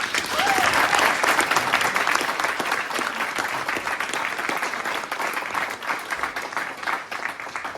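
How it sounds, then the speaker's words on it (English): Loud, sustained applause from an audience for staff at the welcome ceremony of a maritime science education center, strongest at the start and then gradually thinning. "So can we give a round of applause for our staff?"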